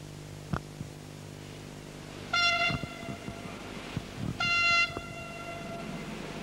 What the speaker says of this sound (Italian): Il treno si avvicina alla stazione